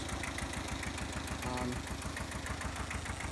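A small tractor engine idles close by in a wet, muddy field, a steady low chugging rhythm that runs alone without any talk.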